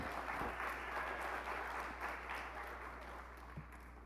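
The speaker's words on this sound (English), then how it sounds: "How about another round of applause for President French?" A graduation hooding and recognition ceremony audience gives a round of applause for a university president: steady, fairly faint clapping from a crowd at a distance, continuing evenly throughout with a low hum beneath.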